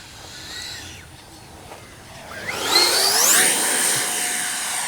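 A Freewing F-14A Tomcat, a twin 64mm electric ducted-fan RC jet, flies past outdoors. A steady whine rises sharply in pitch as it approaches, then holds a loud high sustained tone as it passes close.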